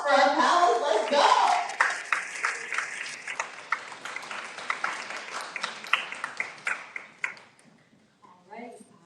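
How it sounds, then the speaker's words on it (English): An audience at a panel discussion claps for the panelists. It starts as loud, dense applause, then thins into scattered individual claps that trail off, with voices mixed in. "So one last round of applause for our panelists."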